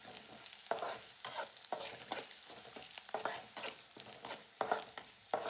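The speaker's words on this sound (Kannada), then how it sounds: "ಈರುಳ್ಳಿ, ಹಸಿ ಮೆಣಸಿನ್ಕಾಯಿ ಎರಡು ಹಾಕಿ ಮಸ್ತ್ ಫ್ರೈ ಮಾಡ್ಕೋಬೇಕೀಗ" Onion and green chili frying in a pan, a continuous crackling sizzle broken by repeated rhythmic stirring scrapes, close but fairly quiet, with no voices.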